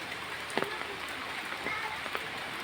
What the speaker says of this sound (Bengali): এখন বৃষ্টির মাত্রা কমেছে, ঘোরা ঘোরা বৃষ্টি পড়ছে।